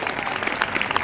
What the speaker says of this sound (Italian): se volete fare un applauso anche